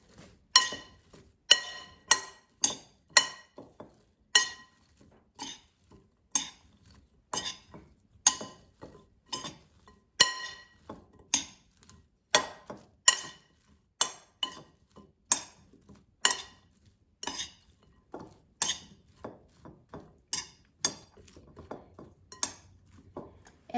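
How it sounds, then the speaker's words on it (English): Cauliflower being tossed with oil and seasonings in a bowl for air-fryer orange cauliflower: a steady run of sharp utensil clinks and scrapes against the bowl, roughly one per second, close and clear with no talking. "And now I'm going to mix it so cauliflower is evenly coated with oil and seasonings."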